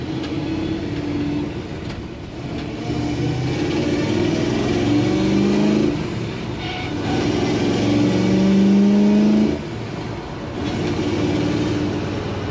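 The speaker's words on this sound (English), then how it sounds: "Great throttle response and good acceleration from this truck." A 1966 Chevrolet C10 pickup with a Hurst shifter accelerates hard, its engine note rising and falling through repeated throttle surges, close and loud with no talk.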